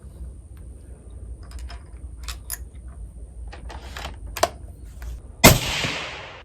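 A Tikka T3x Roughtech Ember rifle in .270 Win fires a single loud, close shot of Nosler factory ammunition on an outdoor range, with a sharp crack and a ringing tail after several seconds of quiet ticks and light rustling.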